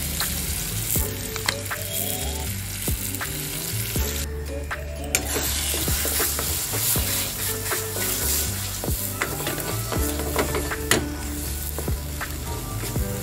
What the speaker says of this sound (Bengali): এইভাবে খুব ভালো করে টানিয়ে নিতে হবে, কষিয়ে নিতে হবে মশলা দিয়ে